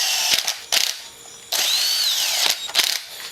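An impact wrench runs bolts down during assembly of a Can-Am Renegade 1000 ATV, firing in several short bursts and one longer whirring run, close and clear with no talk.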